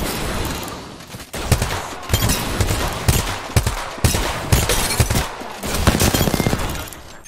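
Gunfire from a gun in the shooter game Apex Legends, loud rapid bursts of automatic shots in quick succession with brief gaps, dense and close amid the ongoing clatter of combat.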